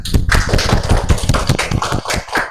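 A classroom group applauding together, a dense continuous patter of many hands clapping close by, steady and loud for the whole stretch.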